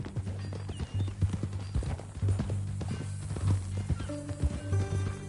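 A horse's hooves clip-clop in a steady rhythm in the Red Dead Redemption 2 video game, close and clear, with a brief whinny and no speech over it.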